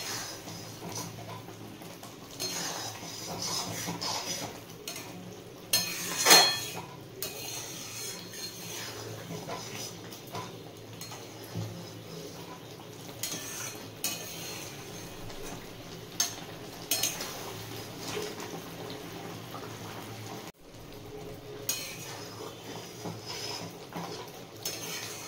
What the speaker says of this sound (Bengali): এবার নাড়িয়ে নেব।